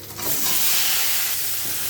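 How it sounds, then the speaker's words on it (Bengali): Boiled eggs dropped into hot oil in a wok set off a loud, steady hissing sizzle that swells quickly and holds without break, with no voices. "আমি এর মধ্যে এই যে ডিমগুলো সিদ্ধ করে রেখেছি এর মধ্যে ছেড়ে দেবো"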